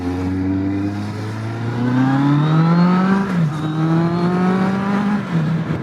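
A 2015 Kawasaki Z800 naked motorcycle is ridden while filtering through city traffic. Its engine revs up in a loud, rising whine, shifts gear, then climbs again, steady and close throughout.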